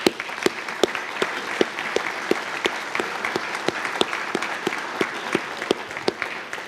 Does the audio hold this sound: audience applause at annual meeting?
yes